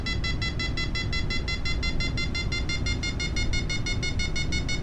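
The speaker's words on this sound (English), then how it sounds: "That beeping you're hearing is the variometer." Rapid, evenly spaced electronic beeps from a glider's variometer repeat nonstop over a steady low rumble of wind and engine noise, in a DG-808S glider in Flight Simulator X, flying behind a towplane.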